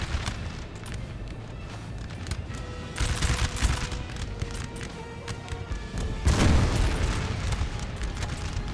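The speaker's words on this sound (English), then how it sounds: "the English artillery just firing at the French cavalry, trying to keep them at bay" Artillery booms in Napoleon: Total War as English guns fire on French cavalry, heavy blasts rolling out in waves over a constant battlefield din, with two especially strong bursts.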